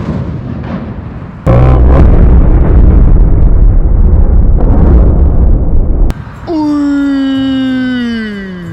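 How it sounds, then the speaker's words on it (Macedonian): A firecracker exploding on New Year's Eve, a sudden, very loud close blast followed by a long roaring burst, then a rising and falling wail trailing off at the end. "Ова е петарда."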